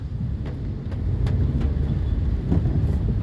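Slow road traffic on a flooded West Service Road, a continuous low rumble of engines and tires with faint clicks and knocks scattered through it.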